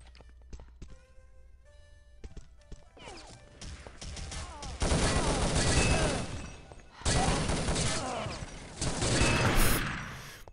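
Gunfire in a competitive video game match at the Urban Zone Knockout 2018 event, starting quiet and sparse, then erupting into loud, sustained bursts of rapid shots with short pauses between them.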